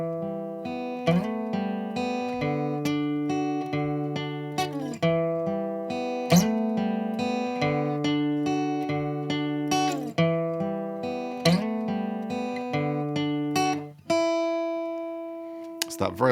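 An electric guitar plays the second guitar part of a song's chorus, picking clean arpeggiated notes with open strings in a steady rhythm that ends on a sustained chord, loud and alone.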